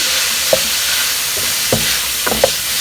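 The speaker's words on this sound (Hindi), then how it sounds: "इसको मिक्स करेंगे।" A spoon stirs chicken vegetable soup ingredients seasoned with black and white pepper in a pan, a few short scraping knocks over a steady sizzle, close and alone.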